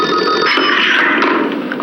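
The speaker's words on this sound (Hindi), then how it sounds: "तुम्हारी बेबी का फोन।" An old-style telephone bell rings loud and close in an indoor setting, one continuous trilling ring lasting the whole moment with no voices.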